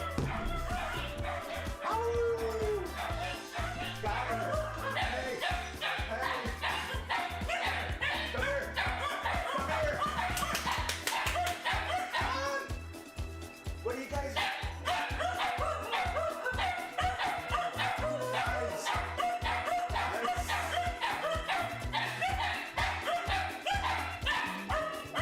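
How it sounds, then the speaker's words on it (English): Several dogs bark and yip repeatedly throughout, moderately loud and somewhat distant, mixed with constant background music and noise, with a person speaking now and then. "Can you guys hear the dogs?"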